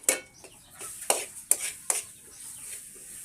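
Crab paste being stirred into fried spices in a pan for crab biryani, giving a few soft scraping clicks spaced through a quiet stretch, with faint background chirps.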